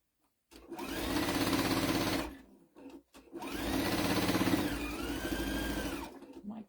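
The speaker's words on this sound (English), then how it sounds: "Sewing the lace on." A sewing machine stitching lace onto a tea towel, running in two steady, close-up whirring bursts of a few seconds each, with a short break between them and no voices.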